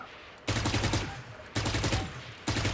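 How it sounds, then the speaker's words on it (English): Three short bursts of Phantom or Vandal rifle fire in a tactical shooter game, each a loud, close cluster of rapid shots separated by brief pauses. "Put a phantom or vandal, whatever you like, and 5 shots controlling the recoil"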